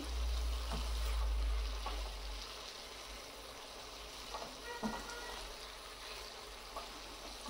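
Food fries in a pan over a high flame, giving a faint, steady sizzling hiss with a few scattered small pops and a low background hum. No voices.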